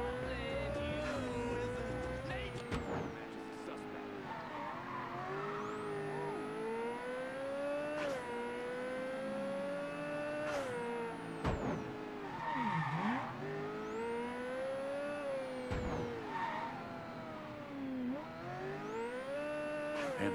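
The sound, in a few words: car driving in Mafia III video game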